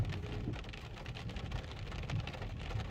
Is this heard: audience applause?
no